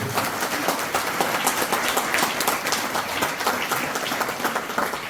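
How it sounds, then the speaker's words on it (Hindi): Audience at a network marketing gathering breaks into loud, sustained applause welcoming newcomers, dense steady clapping filling the whole stretch without talk. "एक बार जोरदार ताली सभी नए लोगों को"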